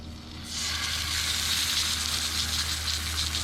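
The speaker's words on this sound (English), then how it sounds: "we're just going to grill or grill fry my sticks here" Pineapple sticks hit hot oil in a pan on medium heat, starting a sudden loud sizzle that keeps going as a steady close hiss, with no voices.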